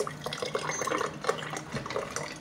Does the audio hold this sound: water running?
yes